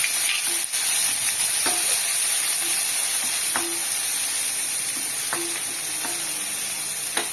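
Ginger being stirred into a coriander thuvaiyal mixture in a hot pan, a continuous sizzle and hiss with occasional clinks of a spoon against the pan, no one speaking.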